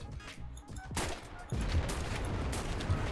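A burst of gunfire crackles in the WWII shooter Enlisted, with sharp rapid shots followed by a dense, sustained rattle of fire and battle noise, loud and close.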